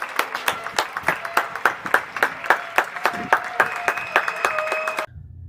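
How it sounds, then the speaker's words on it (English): A round of applause sounds as steady, evenly spaced claps, about sixteen in a quick regular rhythm, over a faint sustained tone, ending abruptly after about five seconds. "Round of applause."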